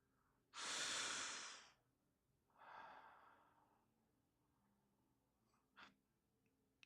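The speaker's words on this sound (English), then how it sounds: "Breathe." Three audible breaths during a guided body-awareness pause: a long, strong exhale, a softer second breath, then a faint short sniff, all quiet and unaccompanied by talk.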